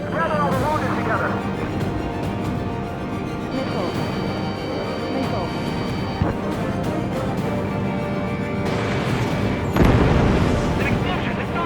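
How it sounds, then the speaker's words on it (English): A deep, rumbling explosion in Ace Combat 7: Skies Unknown roars over a dense, continuous din of booms and crackling, with a sharper blast near the end. "An explosion inside!"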